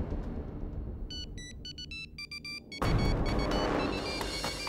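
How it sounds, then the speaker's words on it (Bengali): A telephone rings with a repeating electronic ringtone of bright, evenly spaced beeping tones in short bursts, then a louder burst of the same tone pattern over a rushing background noise. "এইভাবেই ফোন দুবার বেজে গেছে"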